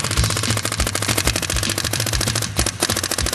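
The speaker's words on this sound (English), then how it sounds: "auto response mode on the Virtue paintball board" Virtue electronic paintball gun board in auto response mode firing a rapid, steady stream of sharp shots, loud and close, continuous throughout with no talking.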